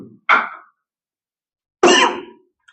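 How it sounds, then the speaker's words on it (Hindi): Two short, harsh coughs about a second and a half apart, close and fairly loud, from a man teaching a maths lesson on the BODMAS rule, with silence between them. "खांसी बहुत आ रही है यार"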